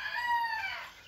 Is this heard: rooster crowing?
yes